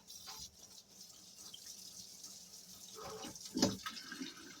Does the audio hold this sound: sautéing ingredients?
no